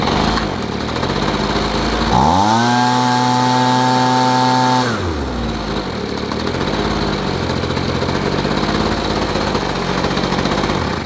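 A Husqvarna leaf blower with an intake problem and a chipped spark plug runs loud and close. Its engine revs up, holds a high whine for a few seconds, then drops back to a rough, uneven idle with a slight misfire.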